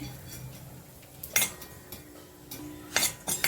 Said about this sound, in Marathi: हा ओवा एक चमचा घेतला आहे तो भाजून घेते